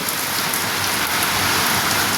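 Steady rain falling on a rooftop, a dense, even hiss with no voices over it.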